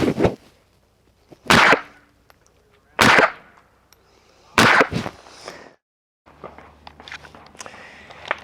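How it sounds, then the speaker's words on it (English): Four sharp, loud cracks from an unsuppressed .22 rifle fired outdoors, spaced about a second and a half apart, each one short and snappy with a little tail, followed by faint background rustle. "My man's going to fire off a couple of rounds here on the 22 real quick, unsuppressed, so you can hear what it sounds like."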